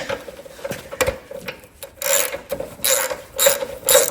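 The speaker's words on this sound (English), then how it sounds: "Takes a 13/16 plug wrench here." A 13/16 plug wrench ratchets a spark plug out of a Honda HSS622 snow blower, giving close, repeated clicking and grinding bursts in an uneven rhythm.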